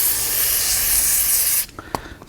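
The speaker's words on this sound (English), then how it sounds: "spray it on there" Brake cleaner degreaser sprayed onto a cloth while working on a Land Rover Defender rear axle: one loud, continuous hissing spray burst that stops abruptly, followed by a few faint clicks and rustles.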